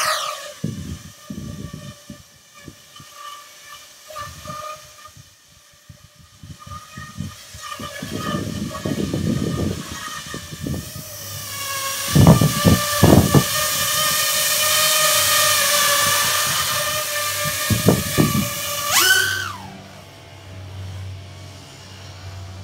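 A 3D printed aluminium FPV racing drone spins up and lifts off on its maiden flight, its motors rising into a loud, steady high-pitched whine with sharp surges and bursts before cutting off abruptly near the end.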